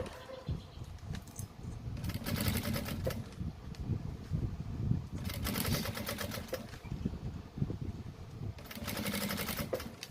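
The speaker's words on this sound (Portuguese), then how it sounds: "Dou o retrocesso, né, no início e no final, pra garantir que minha costura vai ficar bem presinha." A sewing machine stitches a seam on a handbag, with short backstitch bursts at the start and end; the rapid mechanical whir comes in several close, loud runs over a steady room hum, with no talking.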